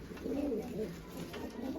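A pigeon coos softly in low, rolling phrases, repeated a few times, fairly close against a quiet background.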